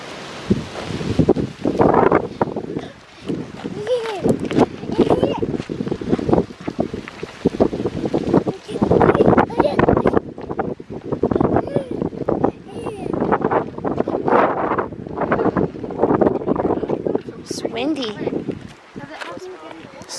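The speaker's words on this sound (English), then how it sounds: "So windy, right?" Strong wind at Garden of the Gods, Colorado, buffets and roars across the microphone in gusts, with people talking intermittently beneath the rushing noise.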